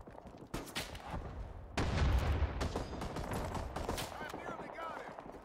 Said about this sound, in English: Someone's shooting the sandbags right next to my head